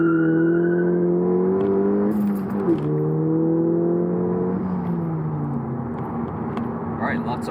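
A Volkswagen GTI, front-wheel drive with traction control switched off, revs hard under heavy acceleration. Its loud, steady engine drone climbs and dips in pitch throughout, close and continuous.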